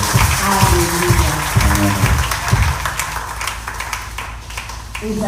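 A church congregation applauding during a worship service, a dense patter of clapping with a voice over it at first, then fading into a thinner, steadier applause.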